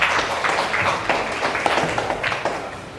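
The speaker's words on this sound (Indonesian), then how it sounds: "Tepuk tangan." A small classroom group claps briefly at a teacher's call, a quick, fairly close patter of hands that stays even throughout.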